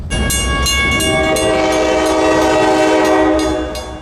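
GSMR 1702 train sounding a loud, sustained multi-tone horn at a grade crossing, close by, with rumbling wheels and engine underneath for about four seconds.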